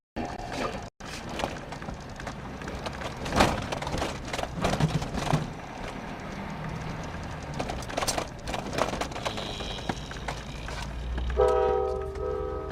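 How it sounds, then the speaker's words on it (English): A short train passes near a wildfire, with a rumbling, clattering roll of wheels on track. Thumps and knocks recur throughout, and a horn-like tone sounds near the end, heard from moderately close with wind noise. "It's a little small train."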